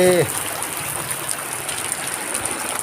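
Heavy rain pours down steadily, a dense, even hiss of falling water that holds at one level throughout, with a brief voice-like tonal sound right at the start.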